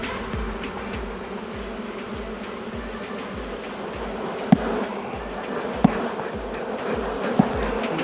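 Honeybees buzz steadily inside an opened hive on a troubled colony, a dense close drone with a few sharp knocks or taps standing out near the end.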